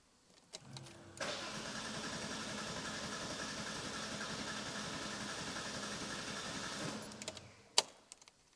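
An RWB car engine, freshly filled with oil, cranks and catches into a loud, steady run lasting several seconds before cutting off with a sharp final bang.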